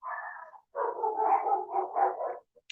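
Dogs bark in a quick run of yaps and short barks close by, a brief pause, then a longer burst of several barks.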